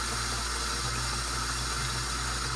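Plain water pouring into the tank of an electrostatic sprayer: a steady, loud, hissing gush with a constant low hum beneath, continuous and close for a few seconds with no voices.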